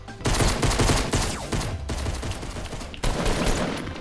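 Dense, rapid bursts of gunfire in a Fortnite Battle Royale match, loud and close, with overlapping shots rattling almost continuously across the whole stretch.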